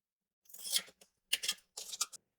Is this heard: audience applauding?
no